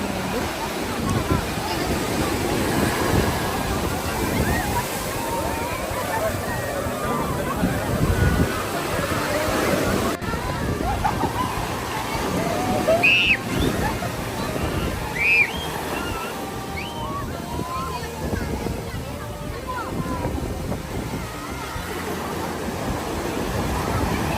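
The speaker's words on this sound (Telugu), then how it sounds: "ఆ అలల సౌండ్ ఎంత బాగా వినిపిస్తుందో" Surf washes continuously onto Besant Nagar beach in Chennai, a steady broad roar mixed with wind buffeting on the microphone, while people talk nearby throughout.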